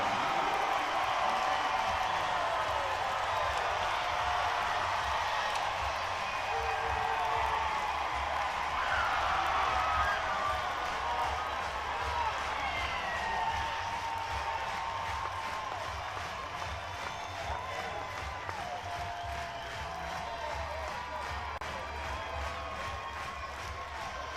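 Home crowd at a college softball game between Arkansas and Ole Miss cheering and applauding after an Arkansas home run, a broad sustained roar of voices that slowly fades, heard at a distance.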